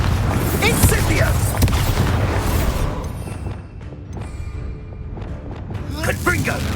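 Magic spells cast in combat in Hogwarts Legacy, with rolling booming blasts and crackling impacts, a short lull and then more bursts, under game speech.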